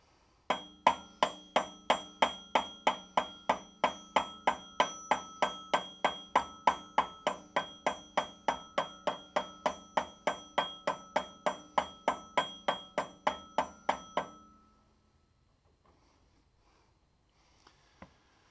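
Steady series of about forty sharp metallic hammer blows, driving a metal part onto a tractor PTO drive, evenly spaced and ringing, then stopping abruptly into near silence with a couple of faint knocks.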